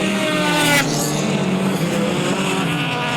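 Hot rod race cars on a circuit: a loud, steady engine roar with layered revving tones as the cars go by, and a commentator's voice faintly underneath.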